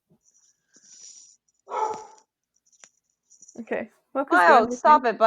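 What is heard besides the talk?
dog barking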